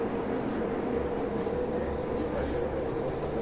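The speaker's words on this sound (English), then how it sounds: "here comes the train now." A Moscow metro train arrives at a station, a loud steady rumble and rushing roar with a thin high whine above it, constant throughout.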